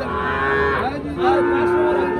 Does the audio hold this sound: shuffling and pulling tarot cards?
no